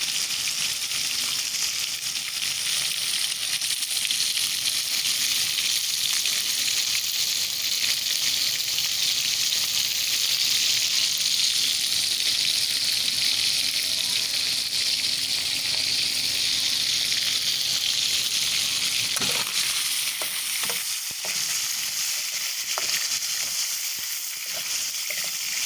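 Chicken frying in a pan for chicken daal mash, a steady loud sizzle with crackling oil running throughout, briefly easing near the end with a few clinks, no talking.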